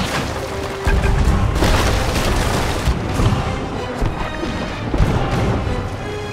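Ship cannons fire during a naval battle in Sea of Thieves, heavy booms rolling one after another over a constant loud rumble of battle noise, close and forceful.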